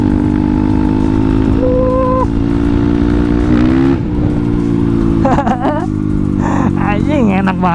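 A Kawasaki KLX supermoto motorcycle bored up to 200cc speeds along a road on a morning ride, its engine droning steadily close by, with rising whines as other vehicles pass.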